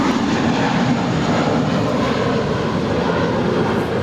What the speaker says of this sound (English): That is American Airlines Flight 2644 heading to Miami, Florida. It's a 787-8 Dreamliner.